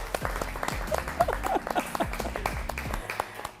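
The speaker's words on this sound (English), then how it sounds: "Let's give everybody a round of applause." Audience applause at a dinner event, steady dense clapping from a room full of people with a few louder claps, continuous and close, fading at the end.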